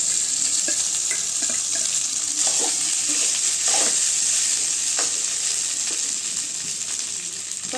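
Cooked rice is tipped into a pan of fried onions for curry leaves rice, giving a loud, steady sizzle with stirring scrapes and soft clatter close by.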